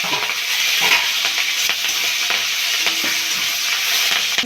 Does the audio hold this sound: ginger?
yes